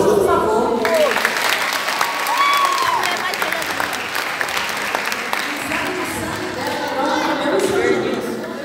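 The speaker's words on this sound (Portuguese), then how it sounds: "Palmas, por favor." Theatre audience applauding at Teatro Higino: loud, continuous clapping from a full house, with scattered cheers, whoops and chatter rising over it throughout.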